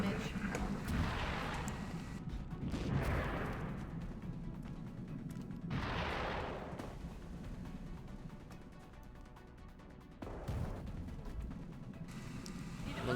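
Heavy gunfire booms from the video game XCOM Enemy Within, several loud blasts and crashes spread across the stretch, with someone talking over the game sounds.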